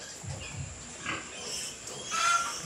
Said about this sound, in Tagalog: Itong isang mama pig na ito